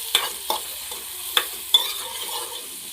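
Small chopped onions sizzle softly in hot oil in a pan, a steady low frying hiss broken by a few sharp clicks and scrapes of a spatula stirring them.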